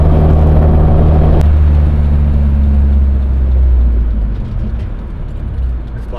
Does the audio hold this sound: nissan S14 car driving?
yes